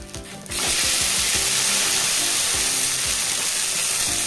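Pieces of fish deep frying in hot oil make a loud, continuous hissing sizzle that starts abruptly after a brief quieter moment, with background music playing beneath it.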